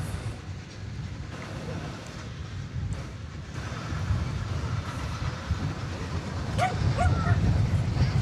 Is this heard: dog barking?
yes